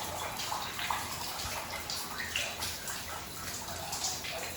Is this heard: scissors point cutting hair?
no